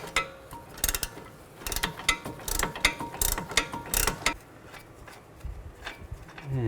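Loosening a control arm nut on a 2007-16 GMC Acadia with a wrench and socket produces a run of quick metallic clicks and ratcheting rasps, close and uneven, then a quieter stretch of light tool handling.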